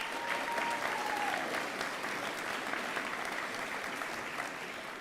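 Steady applause from an audience at an eighth grade promotion ceremony for award winners, a dense continuous patter of many hands that fades slightly toward the end.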